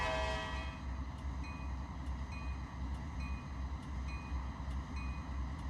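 A freight train rumbles steadily past in the Trainz railroad game at a big Waycross yard, a horn blast sounding at the start over the continuous rolling roar, with faint clicking of wheels on rail joints.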